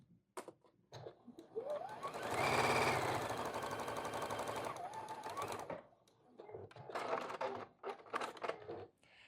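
A sewing machine stitching the last mitered corner of a flannel baby blanket, its motor whirring in a steady rapid rhythm that rises in pitch, stops, then returns in shorter bursts; close and moderately loud.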